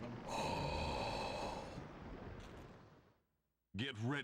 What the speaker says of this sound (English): I do need to blow my nose.